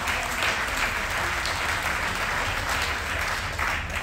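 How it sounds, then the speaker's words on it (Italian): An audience applauds aboard the MSC Grandiosa cruise ship during a Claudio Baglioni tribute show: a dense, steady wash of many hands clapping that holds at an even level throughout, with no speech over it. "un applauso, grazie Anna"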